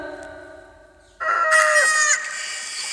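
Rooster crowing: after a short stretch of faint clucking, a loud, close cock-a-doodle-doo bursts out and holds to the end, with no talk over it.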